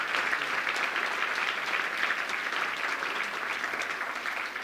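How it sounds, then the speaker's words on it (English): Sustained applause from an audience at the National Apprenticeship Awards 2021 ceremony, a steady dense wash of clapping that holds at an even level from start to finish with no voices over it. "let's give them a round of applause"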